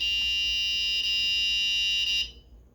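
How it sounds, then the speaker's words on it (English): A steady, shrill electronic buzzer tone sounds continuously for about two seconds, then cuts off abruptly, leaving quiet. "you can connect the buzzer"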